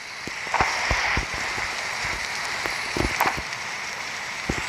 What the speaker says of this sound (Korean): 아니 비가 왜 이렇게 많이 오냐?